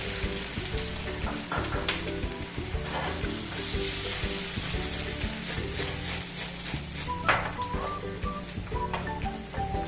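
Mushrooms frying in a pan while beef stroganoff is cooked, giving a steady, close sizzle with stirring scrapes throughout, continuous and fairly loud with no talking.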